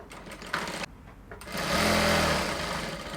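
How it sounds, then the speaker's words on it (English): A sewing machine stitches a dart on a dress lining, a short steady mechanical whir that starts after a few light handling clicks and runs close and fairly loud before easing off. "I'll quickly sew in my dart on my lining before I proceed"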